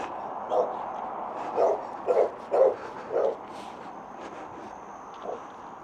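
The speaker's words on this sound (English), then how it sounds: "Sounds like quite a broody dog." A dog behind a fence barks a handful of times at a moderate distance, irregular woofs spaced over a few seconds against quiet outdoor background during an early morning walk.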